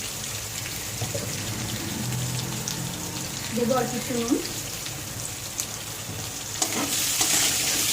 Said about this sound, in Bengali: আমি আলুগুলো একটু লাল লাল করে ভেজে নেব।